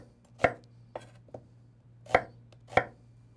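A knife chops onions on a cutting board for potato pancakes, giving five or six sharp, uneven thuds with pauses between them, close and clear over quiet background hum.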